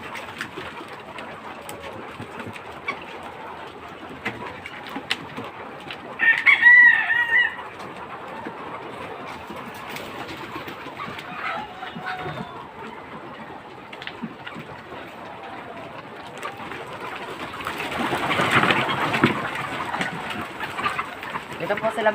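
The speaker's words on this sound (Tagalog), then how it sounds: "Pakita mo yung mga manok natin." Caged egg-laying chickens on a poultry farm, a close, busy mix of clucking and squawking with occasional louder calls and wing flutters, while a person talks intermittently over the flock.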